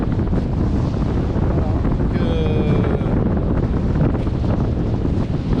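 Strong wind buffets the microphone on a beach during surfcasting, a constant loud roar of rumble and gusts lasting the whole stretch, with faint surf beneath and no talk.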